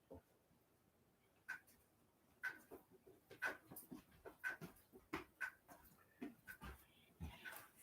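A small dog pants and whimpers after a fall, with rhythmic quick breaths and high thin whines repeating roughly once a second, close and quiet, with no talking.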